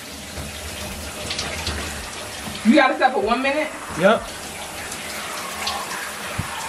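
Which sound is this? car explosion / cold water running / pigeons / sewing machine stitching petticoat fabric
cold water running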